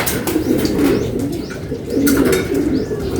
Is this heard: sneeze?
no